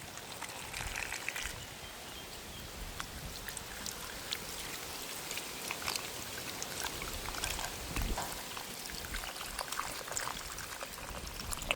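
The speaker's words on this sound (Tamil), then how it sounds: "நாங்கள் கழுவி எடுப்பேன் இந்த பிலாக்காய் துண்டுகளை." Cut jackfruit pieces are washed in water by hand in a village kitchen, giving a steady faint splashing and trickling with scattered drips throughout, no voices.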